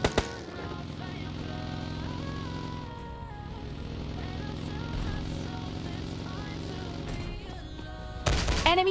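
Gunfire comes from behind the player in PUBG Mobile Lite, a continuous rattling barrage of shots over game ambience, fairly loud and sustained, with a sharp louder burst near the end.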